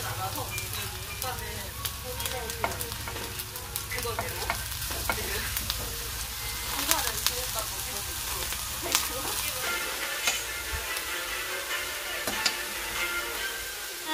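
Eggplant omelette frying in a pan, a steady loud sizzle and crackle that runs throughout with occasional stirring and scraping, a voice faintly in the background.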